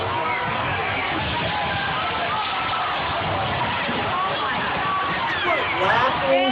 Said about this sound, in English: Listen to the parents cheering.